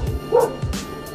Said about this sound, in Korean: 개 한 마리 짖으니까 연달아 그냥 다 짖어버리네.